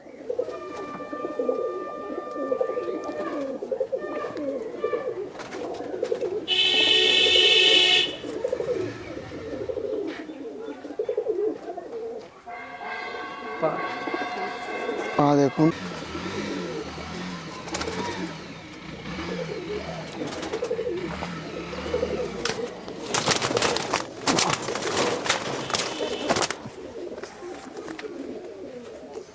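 Adult pigeon brought from Chennai cooing close by among other birds, while car engines rev and pass outside and someone speaks briefly.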